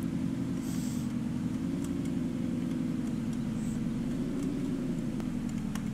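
A truck engine in Farming Simulator 15 idles in a low, even rumble that stays steady and moderately quiet throughout, with no talk over it.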